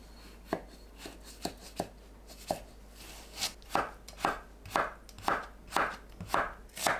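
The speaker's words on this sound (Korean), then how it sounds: "오이는 반으로 자르고 어슷 썰어주세요" Knife slicing a halved cucumber on the bias on a cutting board, prepared for golbaengi bibim noodles; a dozen crisp, close chops, sparse at first, then quickening into a steady rhythm with no talk.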